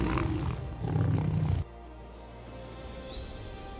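A deep, rumbling lion roar fills the first moments, then cuts off abruptly to quiet outdoor ambience with faint bird chirps.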